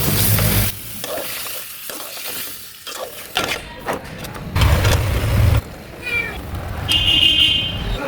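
Bottle gourd dropped into a hot pan for a river prawn curry, a burst of sizzling and stirring scrapes that comes and goes in loud patches, with a few faint higher sounds in the background.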